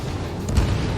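A deep boom of a missile explosion from the video game Ace Combat 7 in a pipeline destruction mission, one short low rumbling burst heard at moderate loudness without speech.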